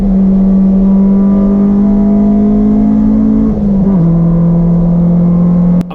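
In-car engine drone of a barn-find Honda Civic lapping a race track, a loud steady sustained tone that holds, dips briefly as gears or throttle shift, then resumes, with no talking.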